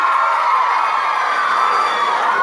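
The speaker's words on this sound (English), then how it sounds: "Everyone's so loud. Kids are screaming." Kids screaming within a loud crowd at a book tour event in Dubai, a dense, steady wash of shrill shouting and cheering voices close by, with no break.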